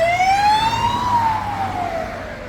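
A police car siren wails past near a Middle Ages bridge at a border crossing, one loud rising and falling tone that sweeps up then slowly down as the car moves away, over a low engine rumble and no talking.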